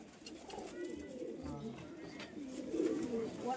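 Pigeons cooing in a loft at a pigeon sale, soft low repeated coos close by with a person speaking intermittently over them.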